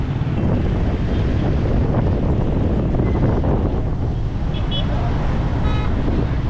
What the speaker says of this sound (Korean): 진짜 바람 많이 부는데 약간 멋있어요